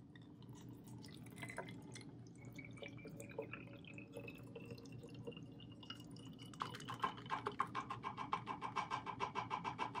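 Faint salt water trickling and dripping through filter paper into a bottle, soft at first then breaking into quick, regular drips near the end, over a low background rumble.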